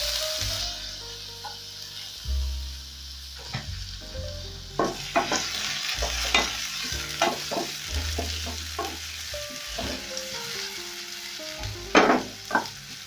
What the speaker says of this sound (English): I'll go in with my onions.